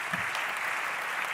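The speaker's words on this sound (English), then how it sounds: "A round of applause, please." An audience applauds the City Council Place 5 candidates at a chamber candidate forum, a short burst of steady, dense clapping from a crowd in a hall.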